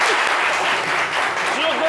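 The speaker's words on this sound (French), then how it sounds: "On peut l'applaudir très très fort." A crowd applauds steadily, a dense wash of clapping that holds for the whole moment, with a voice calling out faintly underneath.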